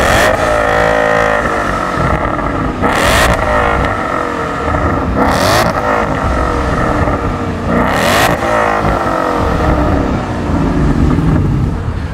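A stock Ford Mustang GT's engine revs through its exhaust in a loud, close, continuous drone, with three sharp throttle blips rising above the steady idle rumble.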